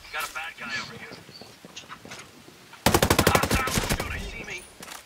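Rapid enemy gunfire in a Ghost Recon-style tactical shooter: a dense, loud automatic burst bursts in partway through and rattles on for about two seconds, following a stretch of players talking over quieter game sound.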